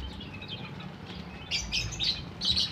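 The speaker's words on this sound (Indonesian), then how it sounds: "Ah ini sikatan. Sikatan ini unik, ini burung ini." Sikatan, a small flycatcher songbird, at a bird market: high, bright chirps arrive in short bursts over steady low crowd rumble, starting partway through and repeating, moderately close.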